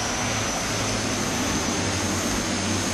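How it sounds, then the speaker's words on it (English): Twin Otter turboprop engines starting up in Flight Simulator X, a steady loud whine and rumble with a constant low drone, no talking. "For some reason, the engines sometimes start themselves in this plane,"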